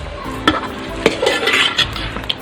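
Duck roast in coconut milk stirred in a pan, close, with a soft sizzle, a few sharp spoon-on-pan clacks and scraping sweeps.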